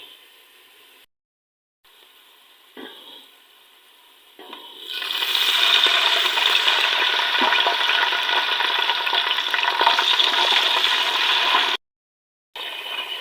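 Water poured onto frying onions in a hot pan gives a sudden loud hiss, settling into steady, strong sizzling that continues for several seconds.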